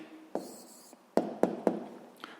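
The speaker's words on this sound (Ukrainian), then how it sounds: "записуємо відповідь" A pen or pencil writing an answer by hand on paper during a sixth-grade maths exercise, with a few sharp taps and short scratching strokes, close and fairly quiet.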